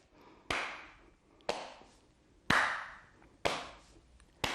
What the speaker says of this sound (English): now give me a tap and a clap